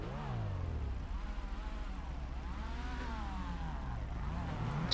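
A car drives around a roundabout in GTA V Online, its engine droning steadily and rising and falling in pitch with acceleration, loud and continuous.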